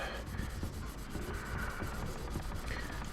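Fine sandpaper rubbed by hand across a silver bar, a soft, continuous, fairly faint scratchy rasp from close up.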